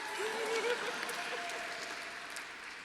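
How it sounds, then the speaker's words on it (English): Quiet, distant clapping from an audience at an awards ceremony in New York, a steady soft patter with a faint voice briefly audible over it. "I can clap for that too."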